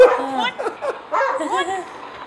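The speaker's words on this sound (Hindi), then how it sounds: "कुत्ता भौंक रहा है।" A dog barks and yips in short bursts, with people talking over it the whole time.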